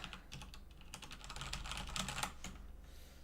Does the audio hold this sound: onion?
no